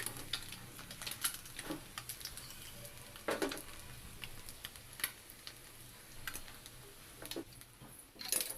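Garlic and chilli paste fries on a low flame in a pan, giving a steady soft sizzle with frequent small crackling ticks and occasional stirring scrapes, close and fairly quiet.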